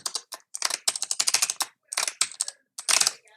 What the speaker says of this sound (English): We'll type in our password twice,